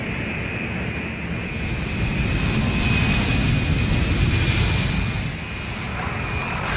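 Engines of a B-52 bomber roar in a steady, broad, continuous drone that swells slightly mid-way, with a faint high whine riding above; no voices.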